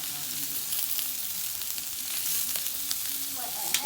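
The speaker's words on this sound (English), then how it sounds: "It's time for the steak to go in to be seared off." A steak sears on a hot grill plate over embers, producing a loud, continuous sizzle and crackle with a few sharper pops, close up and without voices.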